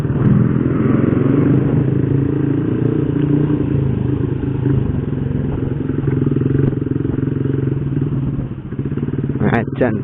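A standard Honda Revo motorcycle fitted with a BRT Type S1 camshaft drones steadily and loudly up close while being ridden, the engine note holding even with a short rattling clatter near the end.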